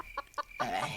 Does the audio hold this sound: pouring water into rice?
no